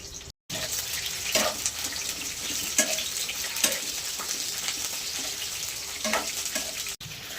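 Green chillies frying in a generous amount of very hot oil, a steady loud sizzle with repeated scraping stirs of a spoon against the pan.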